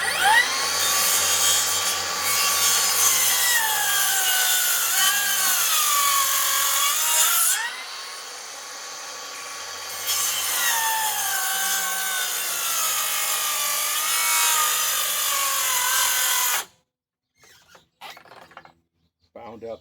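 Harbor Freight Hercules cordless rear handle circular saw cutting through wood, a loud, close, sustained high whine with shifting pitch as the blade loads and briefly binds, pausing once midway, then stopping abruptly before a few faint clatters.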